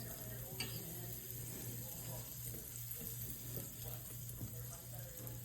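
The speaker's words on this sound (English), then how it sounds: "Saute some onions and peppers." Onions and peppers sauté in a pan with a soft, steady sizzle and occasional stirring scrapes, set against a constant low hum in the kitchen.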